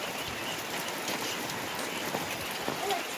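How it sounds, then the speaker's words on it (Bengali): Steady rain falls in a village, a dense, even hiss that holds for the whole stretch, with no talk over it. "মানে বৃষ্টি"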